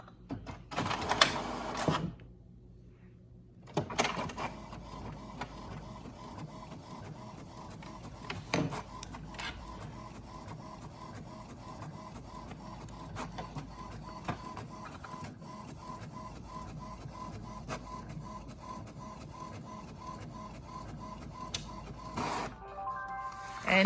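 An HP 3830 inkjet printer whirs into action printing labels, carriage buzzing back and forth with steady mechanical hum, soft clicks and feeding noises throughout.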